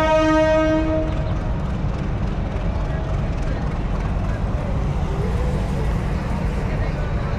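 A Narayanganj commuter train in Dhaka sounds its horn loudly for about a second, then rumbles steadily on the rails as it pulls away, with a constant, close wash of train noise.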